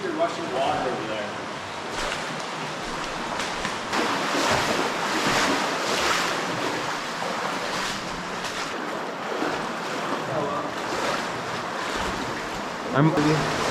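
Steady broadband rush of water flowing inside a cave, continuous and fairly loud throughout, with some wind-like buffeting at the microphone.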